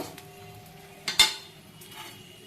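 Dried red chili, cumin and fennel seeds dropped into hot oil for a tempering in a moong dal dish, giving a sudden sharp sizzling burst that quickly fades, with faint clinks of a utensil nearby.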